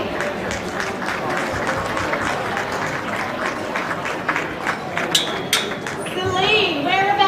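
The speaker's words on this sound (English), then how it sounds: "Huge round of applause and a big thank you to both our choirs today." Banquet audience in a reception hall applauding the choirs, a loud continuous crowd clapping that runs throughout, with scattered voices and children's chatter mixed in near the end.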